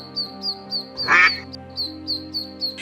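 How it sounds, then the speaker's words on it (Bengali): A cartoon duck quacks repeatedly in a quick even rhythm, about ten bright nasal calls close up, with a short burst of a louder, noisier squawk in the middle and tonal background music underneath. "হাঁসগুলো বুড়ির উঠানে আনন্দে প্যাক প্যাক করে ডেকে উঠল।"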